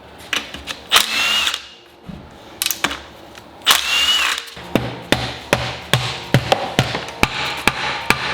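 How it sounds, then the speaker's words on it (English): Metal pieces of a catastrophically failed 2015 Subaru WRX STI engine dropping out onto a hard surface in a shop, a series of sharp clanks and clatters, close and loud, coming faster toward the end. "Pieces of engine are literally falling out."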